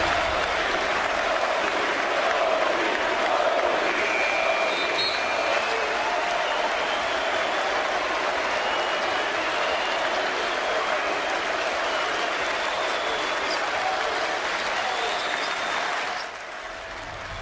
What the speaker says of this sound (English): more cheering in New Orleans